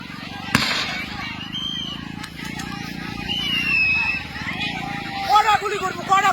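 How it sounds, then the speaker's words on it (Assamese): Gunfire breaks out during an eviction in the Betbari area of Krishnai: one loud, sharp shot near the start and a fainter crack later, under constant shouting and crowd voices. "চাওক আপোনালোকে, পাব্লিক চাওক ফায়াৰিং কৰি আছে"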